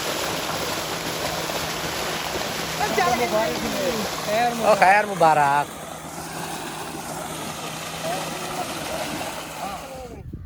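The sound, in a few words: water gushing from solar tubewell motor pump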